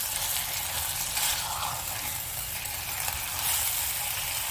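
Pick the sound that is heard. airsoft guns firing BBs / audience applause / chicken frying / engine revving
chicken frying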